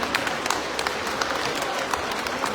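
Crowd applause greeting the chief minister at a Brahmarshi Seva Samaj 26th annual function, a steady wash of many hands clapping at once, fairly loud and continuous throughout.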